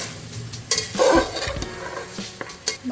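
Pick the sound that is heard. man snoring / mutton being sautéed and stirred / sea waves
mutton being sautéed and stirred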